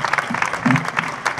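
Brief audience applause at a bullfighting fair proclamation event, a short burst of scattered clapping with a voice briefly audible in the middle.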